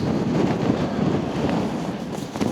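Steady wind blusters across the open hilltop of Black Hill near Addingham in the Yorkshire countryside, a continuous rough rumble buffeting the microphone without any break.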